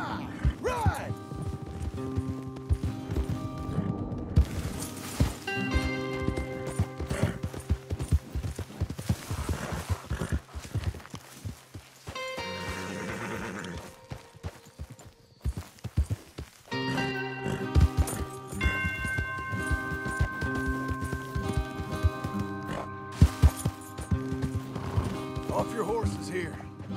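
Horses gallop in Red Dead Redemption 2, rhythmic hoofbeats pounding through most of the stretch, mixed with game music and brief spoken dialogue, with a quieter lull in the middle before the riding resumes.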